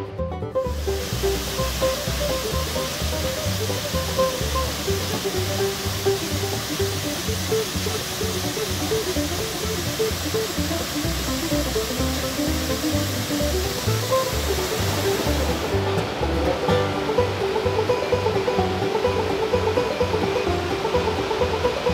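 Lost Creek Falls in Tennessee roars as a steady, loud, broadband rush of falling water heard up close, constant throughout with no voices.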